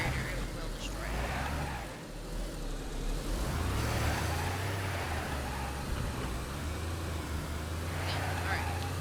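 A car engine runs in the video game DayZ, a low, steady hum with slight surges in revs, heard under a voice.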